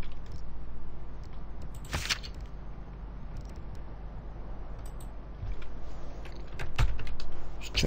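Typing on a wireless computer keyboard during a Civilization 6 session, with scattered quiet key clicks and a few sharper taps over a steady low background hum.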